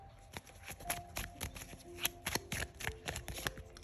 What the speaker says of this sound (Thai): โอเคเดี๋ยวมีขอขยับไพ่แป๊บนึง